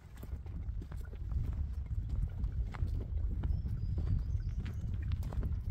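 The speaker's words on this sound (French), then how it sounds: "le galop de ton âne, enfin le galop, les pas." A donkey's hooves clop in an unhurried walking rhythm on an outdoor trail, close and steady, with soft background ambience and no talking.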